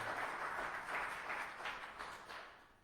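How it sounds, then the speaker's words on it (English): Audience applause for a guest at a church interview event, a soft, fairly distant patter of clapping that fades gradually. "Let's give Rachel a round of applause for being here for her ministry"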